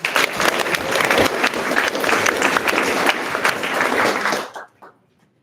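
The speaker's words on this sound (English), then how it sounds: "give a warm round of applause for Shoes Idaho Running Company" Runners gathered for a pre-race briefing break into steady group applause, a loud dense wash of clapping that holds for several seconds, then dies out abruptly with a few last claps.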